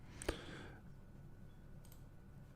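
A single sharp computer mouse click in Photoshop, near and crisp, followed by quiet room tone.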